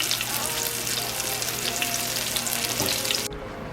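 Chicken fried steak sizzles and fries steadily in a pan, a close, continuous crackle that cuts out abruptly near the end.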